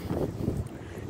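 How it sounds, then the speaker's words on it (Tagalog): Strong, cold wind blowing outdoors during a walk to work, heard as a low, rumbling buffet of wind noise on the microphone that swells and eases in gusts throughout. "So guys, sobrang hangin."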